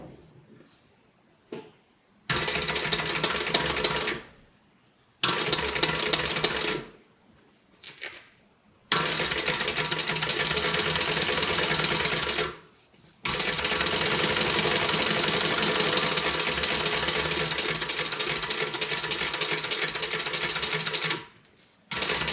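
A sewing machine top stitches a tote bag lining in several bursts, running steadily for a few seconds at a time, stopping briefly, then one long continuous run near the end.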